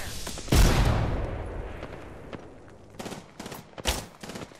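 Gunfire in a Mirage match, an Apex Legends style shooter, opens with a loud close blast that decays, followed by several rapid sharp shots, with no talking heard.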